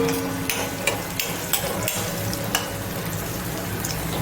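Raw mango curry sizzles in a pan with hing in the tempering, a steady frying hiss broken by periodic light scrapes and knocks as a spoon stirs it, close and with no speech.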